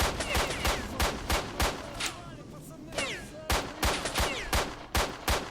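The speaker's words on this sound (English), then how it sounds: "I was able to kind of crudely snipe at these guys with this pistol." Rapid pistol gunshots ring out in the video game STALKER Shadow of Chernobyl, a dense run of loud, punchy shots with echoing tails, interspersed with bursts of other gunfire throughout.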